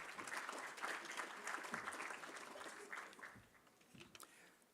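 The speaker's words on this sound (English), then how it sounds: "Ladies and gentlemen, a round of applause for Sholabade." An audience at an African construction law conference claps for an honoree, a fairly faint, steady patter of many hands that gradually thins toward the end.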